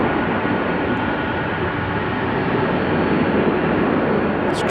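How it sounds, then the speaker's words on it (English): A KLM Boeing 737-900 roars on its takeoff run at Amsterdam Schiphol, a loud, steady, broad jet-engine rush heard from the airport perimeter. "KLM will be taking off shortly. The KLM 737-900 that we saw on Cheaters Lane"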